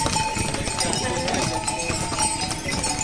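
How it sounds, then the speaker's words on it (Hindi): Horses and mules clip-clop along the steep Kedarnath mountain pilgrimage trail, hooves tapping steadily beneath constant crowd chatter and busy outdoor noise. "बहुत ज़्यादा घोड़े खच्चर हैं यहाँ पे भी"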